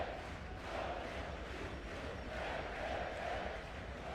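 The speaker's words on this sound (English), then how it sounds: "Sellout crowd here in the Mirza Delibasic Hall in the capital of Bosnia-Herzegovina, Sarajevo." A sellout basketball crowd roars and chants inside Mirza Delibasic Hall in Sarajevo after Bosnia-Herzegovina's 72-70 FIBA World Cup qualifier win over Belgium, a sustained dense swell of voices with rhythmic pulses.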